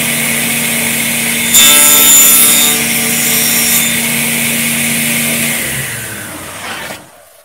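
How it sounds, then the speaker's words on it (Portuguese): The scoring blade of a precision panel saw runs through melamine board, a loud, steady high whine with a brighter cutting stretch in the middle, then the motor spins down and stops near the end. "vou só passar o riscador ali um pouquinho e mostrar para vocês só o efeito do riscador"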